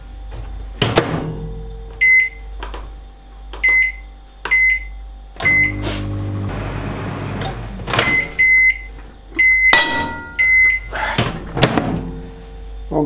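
A microwave oven heats fishing bait for crucian carp, humming steadily with repeated short beeps, door clunks and open-and-close thumps spread across the span.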